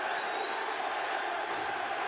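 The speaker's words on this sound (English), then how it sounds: "They're just applauding the guts we're seeing here" Steady roar of an arena crowd applauding and cheering throughout a Bellator MMA title fight between Michael Chandler and Eddie Alvarez, a dense continuous wash of clapping and voices with no breaks.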